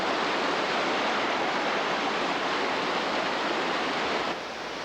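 A creek flows close by in a steady, dense broadband rush of water with no breaks, loud and continuous, and it drops slightly in level near the end.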